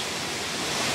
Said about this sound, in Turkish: Boğazpınar köyünde Karasu Şelalesi.